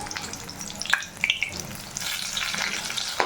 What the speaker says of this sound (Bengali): তো এই রকমভাবে দুটো দিককে খুব ভালোভাবে ডিপ ফ্রাই করে নিতে হবে।